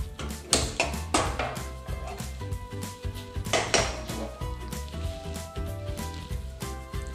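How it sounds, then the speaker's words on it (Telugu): A metal pan is set on a lit stove for cooking chicken manchurian, with several sharp clanks and clatters of cookware and utensils, the loudest near the start and middle, in a quiet kitchen. "ముందుగా అయితే స్టవ్ వెలిగించి ప్యాన్ పెట్టుకుందాం."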